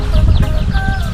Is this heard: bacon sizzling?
no